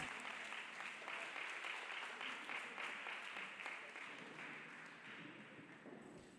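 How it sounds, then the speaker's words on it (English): A congregation at a church service claps for Jesus Christ, a continuous wash of many hands at moderate distance and fairly faint, slowly tapering toward the end. "Clap hands for Jesus Christ."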